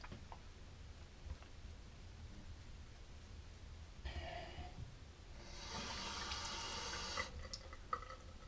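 Cold water runs from a tap while shaving with Mühle sandalwood soap, a broad steady rushing stream that starts partway through and gushes louder for a couple of seconds, with a few small splashes and clinks near the end.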